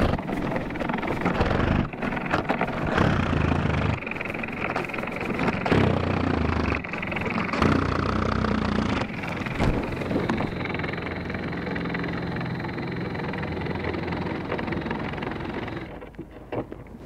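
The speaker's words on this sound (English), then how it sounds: "It seemed like it ran smoothly throughout the cut" Rhyno II glass cutter running through glass, a loud continuous grinding roar with brief dips and restarts through the cut, close up and with no talk over it.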